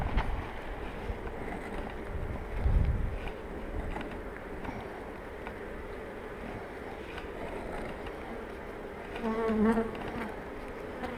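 Honeybees hum steadily around an open, healthy hive that came through winter well, heard while super frames are being placed. The drone is dense and close, with a louder swell near the start and another near the end.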